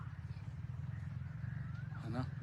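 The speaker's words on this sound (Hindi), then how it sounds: "वही कोई आवाज़ आ रही है, मोटरसाइकिल वगैरह है यार" A low, steady motorcycle engine drone rumbles faintly in the distance while people talk quietly over it.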